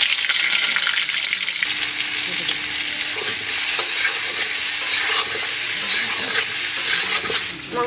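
Potato pieces for a goat-meat curry fry in hot oil in a village kitchen, giving a steady, loud, close sizzle with occasional stirring scrapes throughout, no talking.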